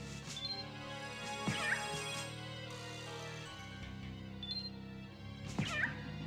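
Cats thrown by enemies in Castlevania: Symphony of the Night let out shrill meows and yowls, two distinct cries a few seconds apart over dense game music.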